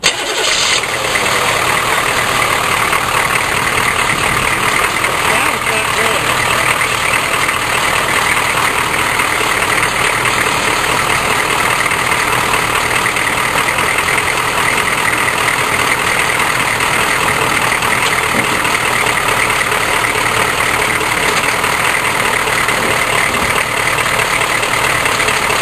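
A Chevrolet K5 truck engine turns over and settles into a loud, steady idle that runs continuously and close up, with no talking over it.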